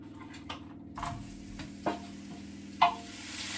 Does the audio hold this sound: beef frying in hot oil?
yes